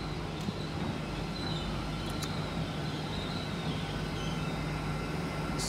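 A train, unit 800-319, at Dawlish station gives a steady, continuous rumble with a low hum that stays even and fairly loud throughout, with no talk.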